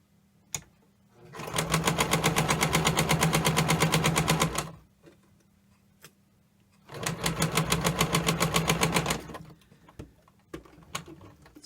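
A sewing machine stitches a quarter-inch seam on a quilt block in two fast rhythmic bursts of rapid needle chatter, separated by a short pause and followed by a few light clicks.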